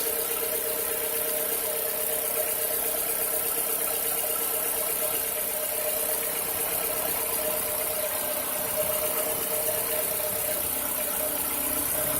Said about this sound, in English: Now that the vehicle is running